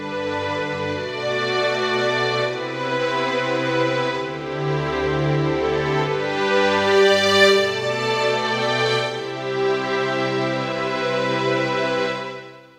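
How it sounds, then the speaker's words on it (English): String orchestra voice of a Casio AP710 digital piano played alone, sustained bowed-string chords with a shifting low melody, steady and full throughout with a gentle swell near the middle and a fade at the end. "So that was the sound of the string orchestra on its own."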